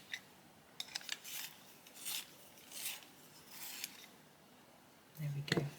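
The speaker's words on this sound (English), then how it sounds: "Let's give that a sharpen." A colouring pencil is twisted in a small handheld sharpener, giving a series of faint, dry scraping and rasping strokes, ending with a couple of louder clicks as the pencil is pulled out.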